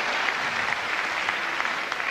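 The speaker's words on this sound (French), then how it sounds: "Gaëlle Voiry, vous l'applaudissez encore, merci." Sustained, dense applause fills a Miss France pageant hall, a steady wash of many hands clapping at even loudness with no break for the full couple of seconds.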